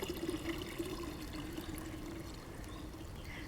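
Water is poured into a container that holds about 2.5 gallons while preparing pashofa, a steady, continuous pouring and trickling close by, with no talk.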